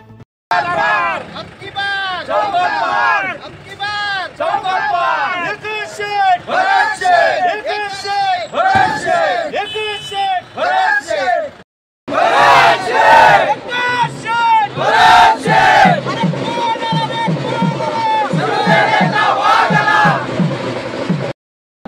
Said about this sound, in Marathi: एकच शेठ, भरत शेठ अशा घोषणा देत कार्यकर्ते जल्लोष करताना दिसत होते